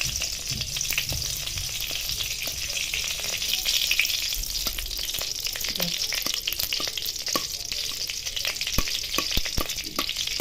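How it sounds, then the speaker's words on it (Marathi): Grated coconut dry-roasts in ghee for coconut barfi, a dense continuous frying hiss with constant stirring scrapes, loud and close with no talk. "तूप तळलं का लगेच हा पीस टाकून द्यायचा खोबऱ्याचा आणि हा पूर्ण ड्राय करून घ्यायचा एकसारखं हलवत राहायचं"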